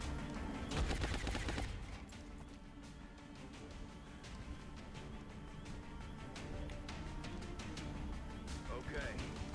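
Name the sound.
gunfire in video game XCOM Long War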